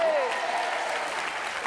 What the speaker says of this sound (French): en général à ce moment-là que la foule en délire applaudit.